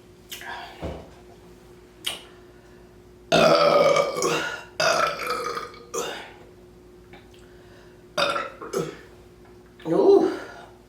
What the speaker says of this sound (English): Giving some good burps.